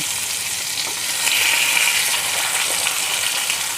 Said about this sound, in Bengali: মাছের পিসগুলোকে আমি এপিট ওপিট করে ভালো করে ভেজে নেব।